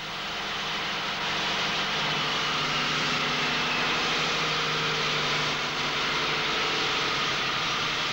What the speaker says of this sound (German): Das Schaltgetriebe wird unter den allergrößten Belastungen geprüft